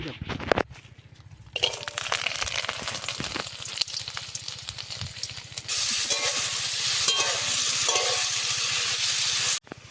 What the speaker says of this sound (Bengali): এখন কুমড়ো ভাজা হবে